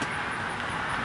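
A car passing by outside, a brief steady roadway whoosh heard at moderate distance with no talk.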